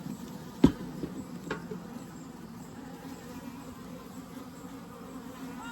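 Honey bees hum steadily around an opened 24-frame Layens horizontal hive during a late-summer inspection, a continuous near buzz with a couple of sharp knocks of frames or hive parts early on.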